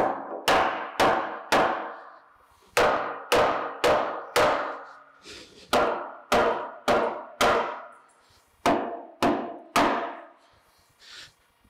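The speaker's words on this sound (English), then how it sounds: "let me get something to kind of bump that with and break it loose" A series of sharp metallic clangs from a lead hammer striking a bandsaw part to knock it loose, in quick bursts of three or four blows with short pauses between, loud and close.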